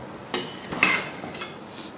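A spoon scrapes and clinks against a cooking pot as soft, cooked jaggery sweet rice is stirred village style, giving two or three close metallic knocks among quieter scraping, with no talking.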